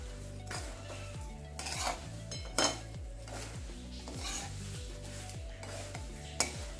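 Roasted poha is stirred into jaggery syrup in a pan, giving repeated scraping and clinking of a spoon against metal in a steady rhythm, close and fairly quiet with no speech.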